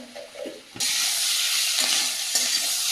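Potatoes frying with spices in a pan start with soft stirring scrapes, then erupt into a loud, steady, close sizzle with occasional spatula strokes.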